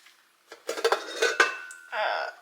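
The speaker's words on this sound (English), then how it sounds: "I am going to scrape my bowl again." A spatula scraping around a mixing bowl during Christmas baking, a quick series of close scrapes and clinks against the bowl, short and fairly quiet.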